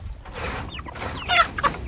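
Chickens inside a chicken tractor making close, soft clucks and short squawks in an uneven pattern, with low outdoor background noise and no talking.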